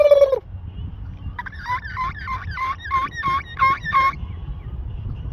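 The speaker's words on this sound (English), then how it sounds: "I don't know if I've ever seen a tom turkey gobble while they're laying on the ground, though." A tom turkey lying on the ground gobbles nearby, one rapid rattling burst of about eight pulses after a brief higher call.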